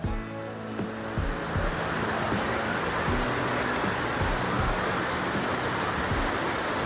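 Mountain waterfalls along the Srikhand Kailash trek route between Khunsha and Bhimdwar, a loud, constant broadband rush of falling water with no let-up, close by and drowning out other sound.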